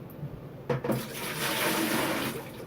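Liquid poured into a jar for a homemade vinegar batch with its mother culture, a steady splashing pour that starts abruptly and runs continuously, close and moderately loud, with no talking.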